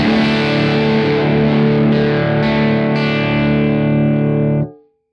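Distorted electric guitar through a Kemper Profiler with the clarity parameter at zero, a thick sustained chord ringing steadily and loud before being cut off abruptly near the end.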